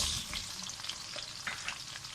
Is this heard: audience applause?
no